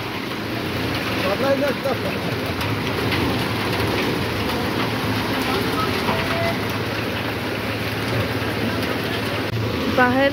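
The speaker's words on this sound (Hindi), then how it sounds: "बाहर हो रही है बारिश याला बारी ओले पड़ रहे हैं।" Heavy rain mixed with hail falling outside, a dense, steady hiss of drops on surfaces that continues throughout, with some faint talking underneath.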